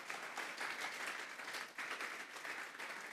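A church congregation claps in praise to the Lord, a dense, steady applause that stays fairly faint and distant across the few seconds.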